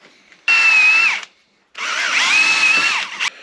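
Two bursts of a power drill whining at high pitch, close by, drilling metal for a universal steering column in a 1955 Chevrolet, separated by a short pause; the second burst runs longer and strains as it bites.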